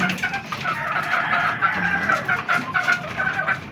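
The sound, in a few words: white Kelso gamefowl chickens clucking at feeding time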